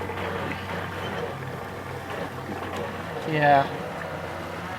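A Terapump battery-powered fuel transfer pump runs with a low, steady motor hum while fuel gurgles through, and someone briefly speaks nearby.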